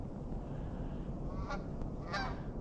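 Two loud honks from geese flying overhead ring out in quick succession over a soft background rumble, in a Calgary park in winter.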